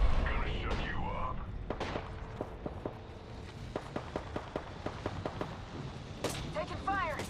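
Gunfire in a shooter video game: a steady series of sharp, evenly spaced shots at moderate distance, with brief voice lines and other game sounds around them.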